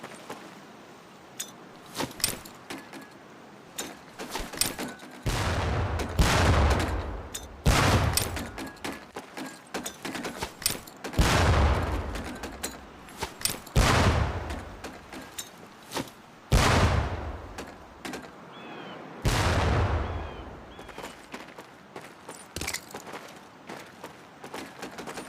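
In a Medal of Honor: Pacific Assault training range, training grenades repeatedly explode near barrels. Booming blasts with long decaying tails come every few seconds, mixed with scattered clicks and small impacts.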